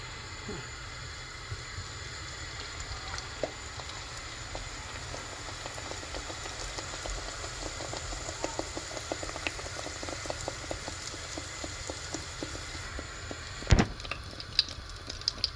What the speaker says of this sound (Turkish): Şimdi kızartmaya başlıyorum.